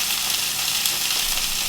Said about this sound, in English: Is there a better sound in the world than sizzling sausages?